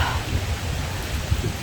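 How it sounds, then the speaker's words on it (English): Rain falls at a campsite on Pulau Ubin island, giving a brief, dense, even hiss of drops that is fairly loud and close. "It started raining again."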